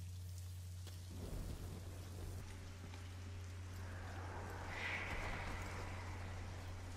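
Steady rain and rolling thunder play in a night scene from House of the Dragon, a continuous hiss with a low swelling rumble that builds toward the end, fairly faint.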